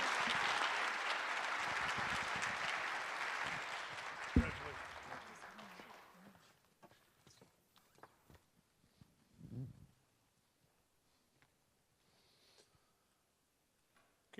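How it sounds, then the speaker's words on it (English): An awards-ceremony audience applauds an award winner with dense, sustained clapping that fades out after about six seconds, leaving scattered claps, shuffling and faint murmurs in a quiet room. "give a round of applause for Catherine Chellis"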